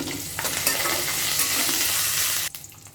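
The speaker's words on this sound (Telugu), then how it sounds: "ఇప్పుడు ఈ వెల్లుల్లిని మీడియం ఫ్లేమ్లో బాగా పోపు అనేది బాగా వేగాలి" Garlic tempering fries steadily on a medium flame, a dense continuous sizzle with a few stirring scrapes, close and loud, cutting off abruptly near the end and leaving a quieter tail.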